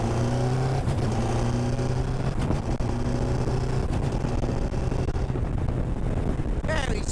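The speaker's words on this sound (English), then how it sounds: "just gotta punch it through the gears, Sean." A Westfield Hayabusa sports car is punched hard through the gears, its engine note climbing and stepping between shifts under heavy wind buffeting from the open cockpit, loud and close throughout.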